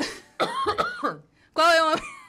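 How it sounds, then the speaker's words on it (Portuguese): A person coughs during a casual podcast conversation: two short, close, harsh bursts, the second louder and longer, each followed by a brief gap. "Eu vou até tossir."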